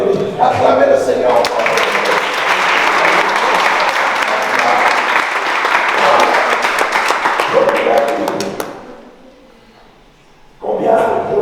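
Guests at a Congolese wedding break into loud, sustained applause and cheering for several seconds, then fade out, with voices briefly heard at the start and end.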